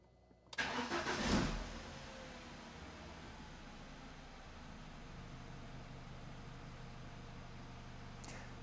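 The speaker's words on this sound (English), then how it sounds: "I'm going to turn on the engine and show you the yellow warning light" A BMW E46 with an N42/N46 engine cranks and catches with a loud burst, then settles into a steady, even idle that runs quietly on to the end, heard from inside the car.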